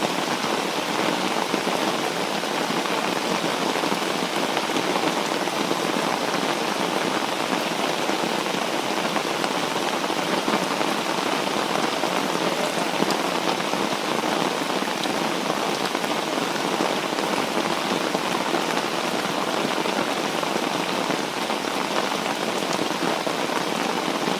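Heavy rain pours down steadily outdoors at night in a rural Thai setting where frog traps are laid, a dense, loud, unbroken hiss on surfaces lasting throughout.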